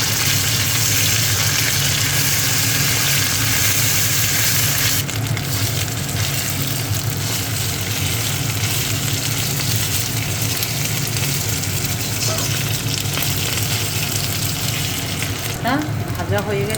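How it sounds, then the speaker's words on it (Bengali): Ginger fries in hot oil in a pan, a loud, dense, continuous sizzle heard up close throughout, with a few light clicks near the end. "একটু হালকা ভেজে নেব।"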